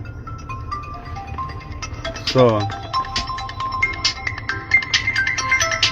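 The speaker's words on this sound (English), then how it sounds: "So a call came into my phone immediately." A mobile phone rings with an incoming call, a melodic electronic ringtone of repeated bright tones playing steadily under a man's speech and a low background hum.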